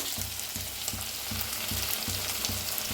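Okra stirred into fried onion and tomato sizzles steadily in a pan over medium gas, with regular spatula scrapes and stirs repeating about every half second, close and alone.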